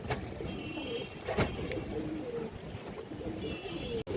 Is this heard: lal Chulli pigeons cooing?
yes